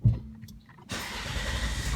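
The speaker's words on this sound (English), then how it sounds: "I start the engine" A Volvo XC70 engine cranks and catches at about 0.9 s, then settles into a steady, fairly loud idle rumble after a short quiet lead-in.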